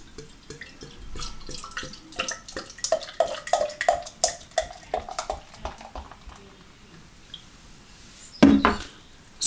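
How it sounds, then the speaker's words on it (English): Beer poured into a glass at a Scottish brewery on the Isle of Skye, a run of close, trickling splashes and drips building in rhythm, then a brief louder gush near the end. "just had to pour the rest of the beer in the head of it"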